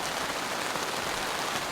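Heavy rain pours onto a camping tent, a steady, dense hiss of drops drumming on the fabric, continuous and fairly soft, with no other sounds.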